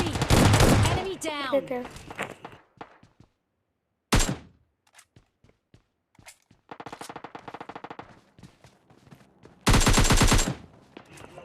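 An S12 shotgun firing in a solo-versus-duo video game match, with loud sharp blasts early, midway and near the end, and a rapid run of lighter shots in between, while a voice talks briefly.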